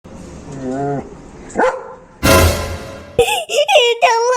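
An animated dog gives a couple of sharp barks between bursts of human speech and a burst of noise, close by, in a Malayalam cartoon.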